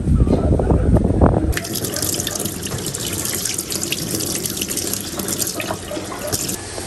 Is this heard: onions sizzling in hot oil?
no